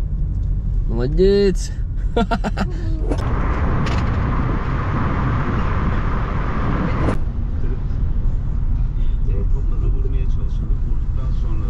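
A car's starter cranks briefly and the engine catches, then a steady engine and road rumble runs under a loud voice speaking nearby before easing off.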